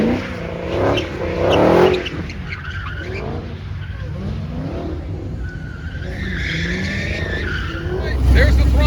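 Dodge Viper race car at a drag race event, engine revving and accelerating with tire squeal, heard amid crowd and track noise, with talk over it.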